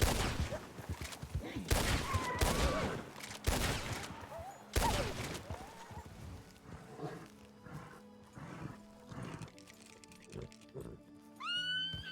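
Gunfire in the Western roleplay game RedM, several sharp bursts ringing out over the first five seconds among horse whinnies and hoofbeats, loud and close, then fading into quieter ambience with a whistle-like tone near the end.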